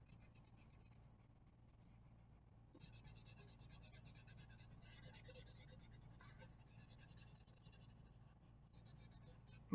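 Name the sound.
coloring a pumpkin drawing on paper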